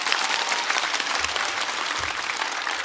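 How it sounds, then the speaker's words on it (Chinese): An audience at a stand-up comedy show breaks into sustained, dense clapping that fills the room, loud and continuous without pause. "掌声送给他们。"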